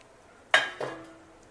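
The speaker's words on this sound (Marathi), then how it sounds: "आता सगळे पोहे आपण एकदमच ह्याच्यामध्ये टाकून घेऊया" Thin flattened rice poha tipped all at once into a pan for Diwali chivda, a short dry rattling pour with a second softer rush, close and alone.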